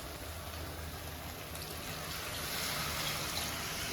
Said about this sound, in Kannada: ಹೀಗೆ ಒಂದು 2 ಲೋಟ ನೀರು ಹಾಕ್ತಾಯಿದ್ದೀನಿ ನಾನು.